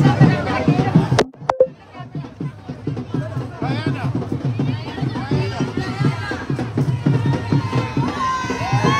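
Crowd at a saree fashion event cheers and shouts for a team from Trinidad, a dense babble of voices and whoops with a sharp bang near the start, rising and falling throughout.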